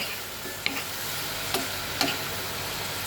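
Vegetables sautéing in a pan with turmeric and coriander powder, a low steady sizzle broken by a few soft scrapes and clinks of a spoon against the pan.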